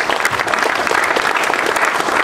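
A large assembly of French mayors claps for the president at their general meeting, a dense, steady burst of applause filling the room from start to finish.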